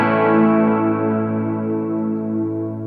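One sustained electric guitar chord rings out with a clean Twin and JC-120 amp model tone on a Boss GX-10, slowly decaying over a few seconds, alone and close.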